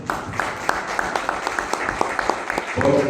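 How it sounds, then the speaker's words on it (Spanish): Audience applause at a book presentation: a crowd claps in a steady patter of separate claps for about three seconds, at moderate loudness, with a louder murmur rising near the end. "agradecer la participación de Eres Salgado, si le podemos dar un aplauso por favor."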